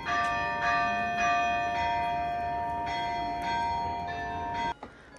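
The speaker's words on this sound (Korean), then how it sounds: "운이 좋게도 성당 종소리도 들을 수 있었다." Bells of Almudena Cathedral in Madrid ring out in a steady series of strikes with long overlapping resonance, heard from a moderate distance outdoors and fairly soft, ending with a faint thump.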